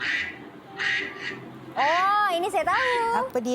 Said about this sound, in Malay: Okey, ni adalah bunyi itik.